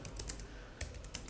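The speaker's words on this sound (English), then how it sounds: "type gets, and then type the Odin project and do something like this" Light keystrokes clatter on a computer keyboard in short, irregular bursts while typing Ruby commands, faint and close with no voices.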